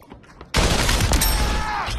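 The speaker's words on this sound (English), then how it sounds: "Then gunfire from the apartment next to me," Heavy automatic gunfire in the VR shooter Population: One bursts in suddenly after a quiet moment, a loud, sustained fusillade of rapid shots echoing close by.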